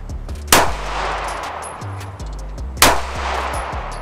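Two loud gunshots from a Taurus G2C pistol, spaced about two seconds apart, each with a sharp crack and echoing tail over a steady outdoor background.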